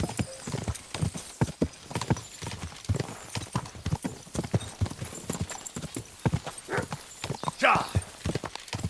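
A horse named Pebbles gallops in the video game Kingdom Come Deliverance 2, rapid rhythmic hoofbeats close up with a whinny near the end while someone talks over them.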